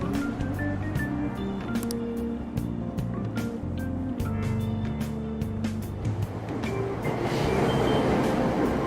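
Subway train pulling out of Aoyama Ichome station in Persona 5 Royal, a steady loud rumble of wheels and motor with rhythmic rail clatter, building in noise toward the end.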